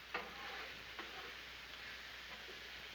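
Shrimp and sausage stir fry with broccoli sizzles faintly on a Blackstone griddle, a steady hiss with a few soft scraping taps of stirring, quiet and with no talking.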